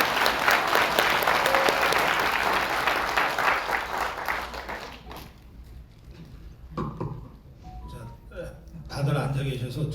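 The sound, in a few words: audience applause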